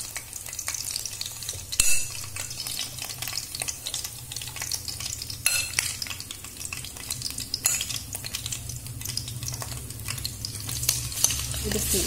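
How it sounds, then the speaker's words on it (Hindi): Marinated chicken sizzles and fries in plenty of hot oil, with a continuous close crackle, frequent scraping stirs of a spatula in the pan and an occasional sharper knock, and no talking throughout. "अब मैं इसमें डाल दूंगी हमारी मैरिनेटेड चिकन।"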